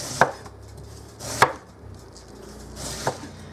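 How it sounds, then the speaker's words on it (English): A knife slices thinly through vegetables on a cutting board for corned beef and cabbage soup, three crisp separate cuts spaced over a second apart, close and clear against quiet room tone. "now I'm just going to slice these just nice and thin"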